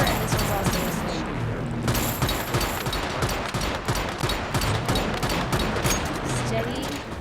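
Sniper rifles crack in a video game, a dense run of loud gunshots over continuous game noise and music, with speech mixed in.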